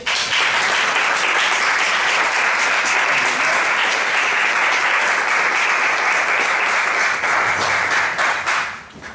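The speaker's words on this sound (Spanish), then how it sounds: "os pido un fuerte aplauso para él" Audience at a film forum event applauds, a loud, sustained burst of dense clapping that fades out in the last moment.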